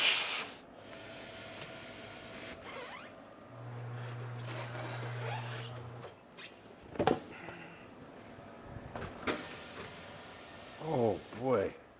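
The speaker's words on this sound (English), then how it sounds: "So let's get this thing to the tire machine." Old Kenda tire being worked off a corroded Honda XR motorcycle rim on a tire machine: a hiss and a low steady motor hum, scraping rubs, and sharp clanks and squeaks near the end, with a voice talking over parts of it.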